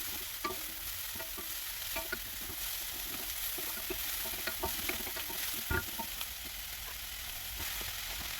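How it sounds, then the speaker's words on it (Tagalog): Carrots and celery stir-fry for Filipino pancit, a continuous sizzle with scattered scraping stirs and clacks of a utensil in the pan, steady and close. "Tapos tuloy-tuloy na natin lutuin ang ating mga gulay. Carrots, celery"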